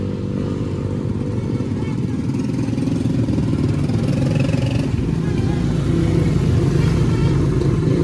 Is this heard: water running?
no